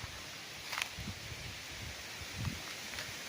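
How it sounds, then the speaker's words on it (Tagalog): Quiet, steady wind brushing through bamboo leaves, with soft rustles and a couple of faint clicks standing out. "Medyo mahangin ngayon."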